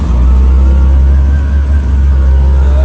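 An auto rickshaw engine rumbles steadily and loudly while driving, a constant low drone from inside or right beside the vehicle, with no talking.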